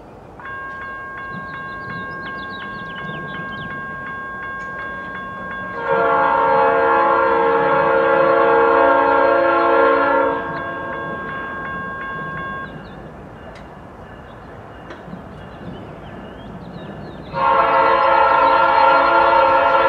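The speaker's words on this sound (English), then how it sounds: "Got NS13R coming into Columbia, South Carolina with an SD70ACC leading." Norfolk Southern freight train NS 13R, led by an SD70ACC locomotive, passes through Columbia, South Carolina with a steady rumble of rolling cars and two long, loud multi-tone horn blasts.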